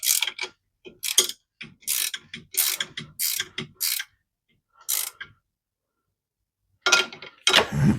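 A hand ratchet tightens bolts on a winch bracket during an install on a Polaris RZR Pro R, sounding as sharp bursts of rapid clicking in a rhythmic series, then a pause before a final couple of bursts, close up.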